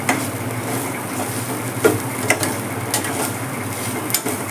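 Rava (semolina) roasts in a pan for ravva laddu under a steady soft hiss, with light spatula scrapes and a few clicks against the pan, close and fairly even throughout, with no one talking.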